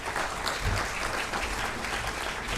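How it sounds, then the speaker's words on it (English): Audience applause at a PGIMER Chandigarh Foundation Day ceremony, a dense, steady wash of clapping that stays even and fairly loud throughout. "Please clap, everyone."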